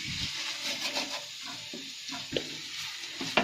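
Soya bean fry in a pan over a low flame, stirred by a utensil: soft scraping strokes over a light sizzle, faint and close, with no talk.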